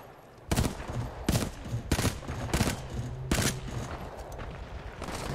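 Gunfire in the shooter game Titanfall 2, six sharp, loud bursts at uneven intervals over a constant low background hum, with no talking.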